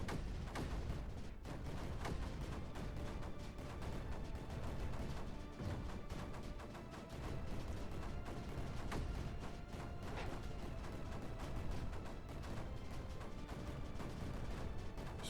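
Mortar and cannon fire in the Creeper World 4 strategy game, a dense, continuous barrage of overlapping booms and crackling impacts with no voices.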